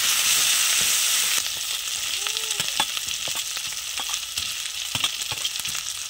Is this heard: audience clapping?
no